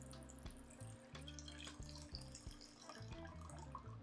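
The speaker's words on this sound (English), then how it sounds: "I'm gonna drain the liquid." Liquid from a can of ackee drains out while a lid holds the fruit back, a faint steady trickle and splash of pouring water with no one speaking.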